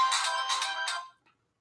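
A phone ringtone rings during a call, a bright electronic melody in three pulsing swells that cuts off abruptly after about a second, leaving silence.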